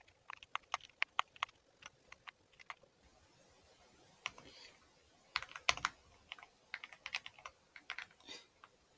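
Bursts of typing on a computer keyboard, quick clusters of light key clicks with a short pause in the middle, fairly close and quiet, with no voices.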